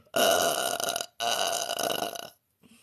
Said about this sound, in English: That's my inhale burp.